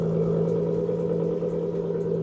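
Loud Corvette ZR1 engine holding a steady, heavy drone with deep rumble throughout, a continuous powerful roar with no pauses.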